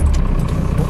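Truck engine running steadily right after starting, a low continuous rumble heard up close with no talk.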